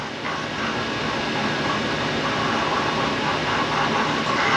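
A wood lathe spinning at about 4,000 RPM while turning a wine stopper, a steady even whirring hum running unbroken and fairly loud throughout.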